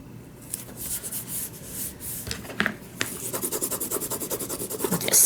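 Paper in a journal being burnished by hand, a series of close rhythmic rubbing and scratching strokes that speed into quick regular passes toward the end.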